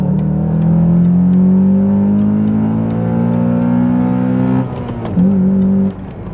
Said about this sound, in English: this is an amazing sounding car, especially for a 4-cylinder